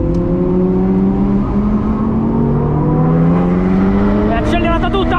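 A supercar accelerating hard through the gears in Dubai, the engine note climbing loudly in rising pitch with a whirring drivetrain, close and continuous, with a voice talking over it.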